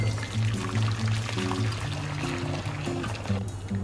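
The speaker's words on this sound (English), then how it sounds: "So firstly, I will pour in the hot water in," Hot water poured into a cooking pot while making bak kut teh at home, a steady close liquid stream running without pause alongside soft background sounds.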